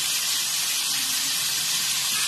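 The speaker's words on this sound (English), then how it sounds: "And you can get it like how it sears the meat." Carnitas meat sears in a 12.5-inch iron skillet, putting out a loud, steady hiss and sizzle close up, with no break and no voices.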